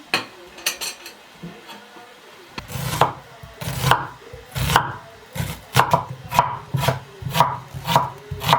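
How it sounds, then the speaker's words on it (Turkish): Steady knife chopping of onion on a cutting board, a run of firm, regular thunks that quicken into a brisk rhythm, close up with no talking. "Soğanı doğradım, xırdaladım."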